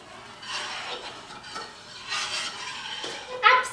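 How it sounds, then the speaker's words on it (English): Someone stirs lemon posset mixture in a pot on the stove while it comes up to a boil. The spoon makes steady, close scraping and swishing strokes that swell and fade, with no talking. "I'm just over here stirring my mixture and I'm going to wait for it to boil"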